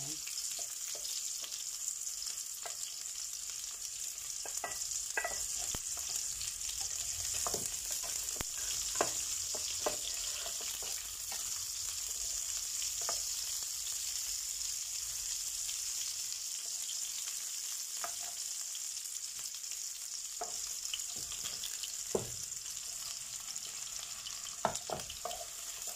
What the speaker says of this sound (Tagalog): I-brown muna natin ng kaunti ang garlic. And then, ang susunod naman ay yung ating onion.